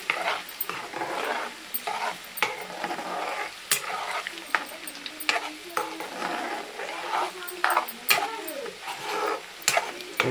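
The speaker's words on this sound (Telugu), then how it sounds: "కొంచెం గోల్డెన్ బ్రౌన్ కలర్లో వచ్చేదాకా ఆయిల్లో డీప్ ఫ్రై చేయాలన్నమాట." Peanut oil deep frying with a steady close crackle and sizzle, stirring scrapes and light clinks of a utensil against the pan over about ten seconds, no voices.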